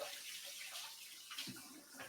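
Water runs from a kitchen tap into a container, ready for washing radishes, a soft, steady rushing stream close by and fairly quiet, with a few small clunks near the end.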